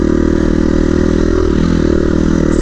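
A dual sport dirt bike runs along singletrack trail, its mid-pitched engine droning steadily and loud throughout with clattering and scraping from the ride, no speech over it.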